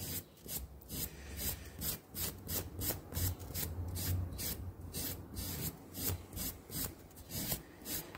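Rhythmic rasping strokes of a flat file rubbing against a felt piano hammer of an old Petrof piano, quiet and close, repeating at a steady back-and-forth pace.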